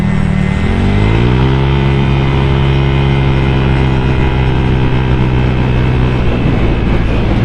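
A loud, continuous engine roar from traffic on a road, with big motorcycles going past. The drone is close and steady, and its pitch shifts slightly as a vehicle passes.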